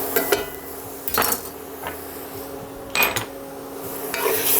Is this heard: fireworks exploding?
no